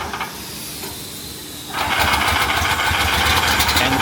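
A 2026 Isuzu 4x4 rescue fire pickup's pump engine is started by key ignition: a steady hiss gives way to a louder, rough running engine after the start, close and continuous.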